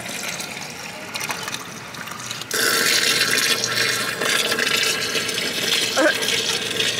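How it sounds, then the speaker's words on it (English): Fresh spring water running and splashing from a spring fountain at Manitou Springs, Colorado in winter, a steady close gush that grows louder partway through, with faint voices in the background. "they have this fresh spring water running down."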